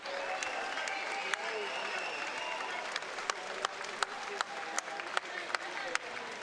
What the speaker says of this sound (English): Let's give a big round of applause for both of these warriors.